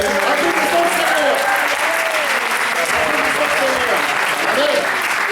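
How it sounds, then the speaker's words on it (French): A church congregation applauding the Lord during a bilingual English-French service, loud continuous clapping filling the room, with voices calling out and talking over it throughout. "Put your hands together. applaudissons le Seigneur."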